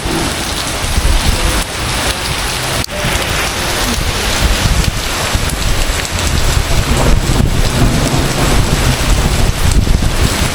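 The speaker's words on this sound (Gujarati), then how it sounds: "તમે જોઈ શકો છો કે કડકડાટ વીજળી પડી રહી છે, એ બી ખામ્યા વગર." Heavy rain pours steadily and loudly in Ahmedabad, with a low rumble of thunder rolling beneath the constant downpour; no voices.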